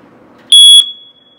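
A single loud, piercing electronic beep from a smoke alarm as its test button is pushed, lasting about a third of a second, then a faint ringing tail in a quiet room.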